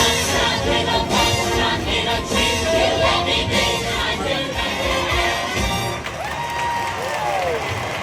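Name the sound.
applause track played at Seuss on the Loose, Universal Orlando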